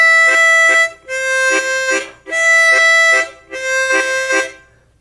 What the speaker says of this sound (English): that tonguing method, it's called tonguing, where you pull your tongue on and off the holes to make the chords